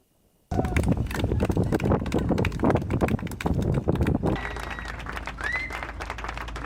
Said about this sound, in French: Les applaudissements pour l'équipage du Sodebo Ultime 3 qui vient de rejoindre ici au cœur de la ligne de Fort-de-France.